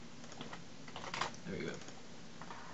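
Keys on a computer keyboard tapped in short quiet bursts during Java coding, with a brief louder flurry in the middle.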